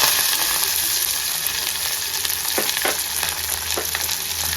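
Mustard seeds, cumin, curry leaves and chopped raw mango sizzle in hot oil for mango pachadi, a dense, hissing crackle with a few sharp spatter pops and stirring scrapes.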